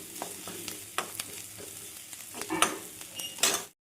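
Onions sauté in a pan for tomato rice, a soft sizzle under several sharp scrapes and taps as a spoon stirs them. It is quiet and close and stops abruptly, with no talking.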